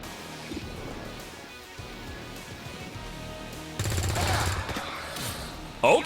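Gunfire from a gunner's overwatch shot in XCOM Long War of the Chosen, a loud burst of rapid shots lasting under a second over quiet game ambience, followed by a sharp final crack.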